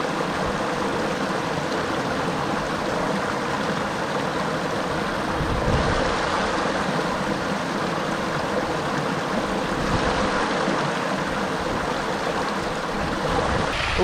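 Water pours steadily down a small natural rock slide into a pool in a Scottish mountain stream, a constant, full rushing wash heard up close throughout, with no voices.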